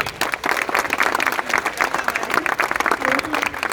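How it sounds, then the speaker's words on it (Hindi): Loud audience applause for Ashish Rai, a Tata Steel junior engineer, after a poem at a stage event: vigorous, dense clapping from many hands filling the whole stretch, with a faint voice briefly audible near the end. "तो जोरदार तालियां हो जाए आशीष के लिए।"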